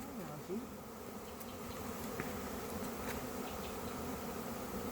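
Bees buzzing at a baited spot outdoors, a faint steady droning hum with individual insects passing close now and then.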